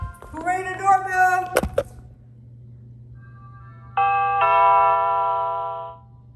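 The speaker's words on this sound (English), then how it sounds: "Who rang the doorbell?" A house doorbell rings with a sustained, ringing electronic chime that sounds loud and close, after a stretch of lively talking and a sharp knock-like hit.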